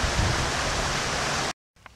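A waterfall along the South Lantau hiking trail pours out a steady, loud, broadband roar for about a second and a half. The roar then cuts off abruptly, leaving only faint ambient sound.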